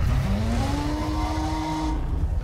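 A dinosaur's calling cry in the game Path of Titans rises as a long, siren-like whine, loud over a constant low rumbling background, fading out near the end.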